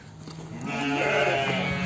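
Lambs bleat close by on a farm in Manisa, overlapping wavering cries that swell and continue through the clip with no talking.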